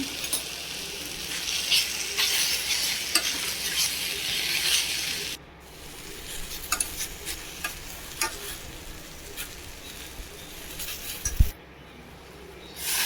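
Grated raw mango stirred with chili powder in a frying pan, a steady sizzle with scraping spoon strokes across the pan, loud at first and then softer with a few clinks.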